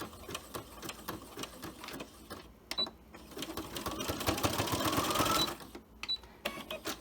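A sewing machine runs a zigzag stitch across a child-size fabric face mask made from fat quarters. Short whirring bursts alternate with pauses, and one longer steady run swells louder midway. No one speaks.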